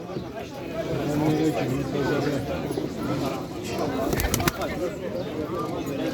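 Pigeons cooing softly among a flock of birds, the low calls partly buried under close, continuous talk from several people.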